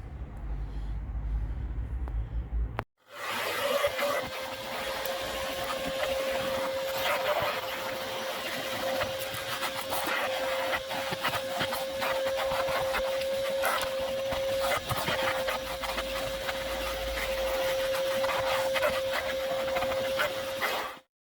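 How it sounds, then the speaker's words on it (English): A vacuum cleaner hoovers a vehicle's fabric carpet, starting abruptly after a short quiet lead-in and then running loud and continuous with a steady tonal whine over rough suction noise. "I'm just going to give it a quick hoover"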